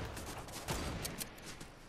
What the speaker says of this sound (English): There's some gunfire over here.